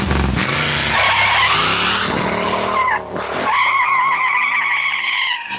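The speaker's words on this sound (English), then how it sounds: "Now put it in first, let the clutch out slowly, and start rolling smoothly." A car pulls away in first gear after the clutch is let out during a driving lesson, its tires screeching loudly in a sustained, wavering squeal with engine noise beneath, lasting about five seconds with a brief dip midway and no talk.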